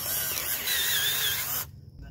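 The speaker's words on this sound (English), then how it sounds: "I'm gonna start with the 3/4 inch bore bit." A 3/4 inch bore bit drilling holes into wood for a DIY gantry crane, a steady close whirring grind lasting about a second and a half before cutting off abruptly.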